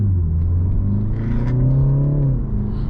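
A 2020 BMW 330i with an 8-speed gearbox accelerating, heard from inside as a loud low engine drone whose pitch climbs steadily, then drops briefly with a gear shift near the end.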